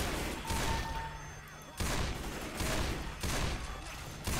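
Rifle fire in the zombie shooter Left 4 Dead 2, a sustained loud fusillade of rapid shots in dense bursts, with brief pauses between volleys and no talking.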